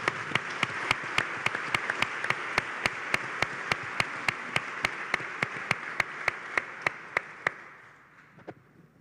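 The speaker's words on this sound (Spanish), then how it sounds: "El aplauso para Juan." Audience applause for a panelist at a science policy congress panel, sustained and even for about seven seconds before trailing off, with sharp regular clicks punctuating it throughout.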